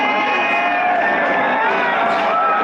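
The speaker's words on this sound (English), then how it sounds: "The crowd love them." A large cricket crowd cheers steadily after Nepal's victory over West Indies, a loud, dense roar of voices and shouts that holds throughout without a break.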